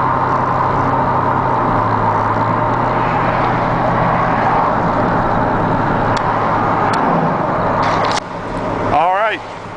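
A Chevy 3500 pickup truck cruises at highway speed, a steady loud road and engine drone with wind noise from inside the cab, and a brief voice near the end.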